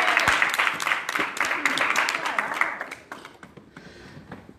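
Church congregation clapping during a sermon, a fairly close burst of hand claps with distinct individual slaps that thins out and fades toward the end, with some voices mixed in.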